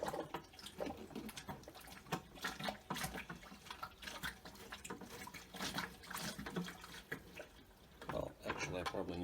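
Water gurgles and splashes as a hand pump siphon drains a freshwater fish tank into a bucket, with irregular bubbling bursts and pumping sounds, while a person speaks over it.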